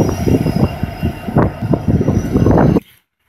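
A train rolls by close in a rail yard in Greenville, wheels clattering and squealing over the tracks before the noise cuts off abruptly.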